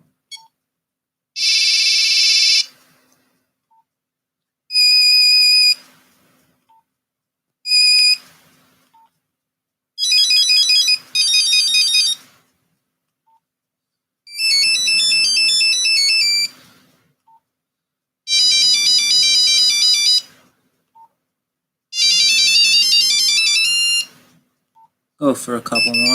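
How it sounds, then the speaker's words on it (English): Vintage mobile phone ringtones play one after another, eight short bursts of bright electronic beeping melodies separated by silent gaps, loud and close. "Here, I'm just going to sample some of the ringtones."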